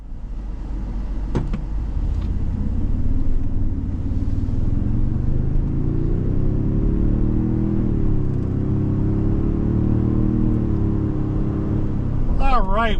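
A 2025 Toyota Sequoia Limited 4x4 SUV pulls away, its engine a steady low hum that rises in pitch as it accelerates, heard from inside the vehicle and loud throughout.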